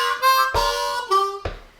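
Harmonica playing the opening lick of a song, starting on a 2 draw: four reedy sustained notes in quick succession, close and fairly loud, the last trailing off, with no voices.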